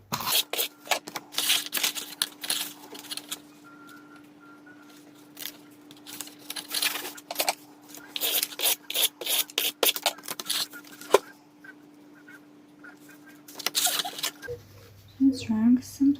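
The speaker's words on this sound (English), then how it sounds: "I'm using my tape runner for my adhesive from Crafter's Companion" A refillable Crafter's Companion tape runner lays down adhesive on card layers in short rubbing, scraping strokes, close and repeated, with a steady low hum beneath and a brief burst of other noise near the end.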